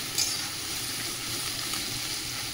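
Onions sizzle and fry steadily in a pan in a home kitchen, a continuous close hiss with a brief louder crackle near the start and no talking.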